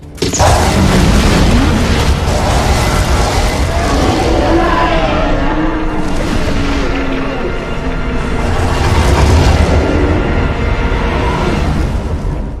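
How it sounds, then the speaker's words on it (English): Fireworks explosions in the computer game Ultima 1 boom in a dense, continuous barrage that stays loud for the whole stretch, with repeated deep bursts and crackling layered over one another. "Enjoy the fireworks!"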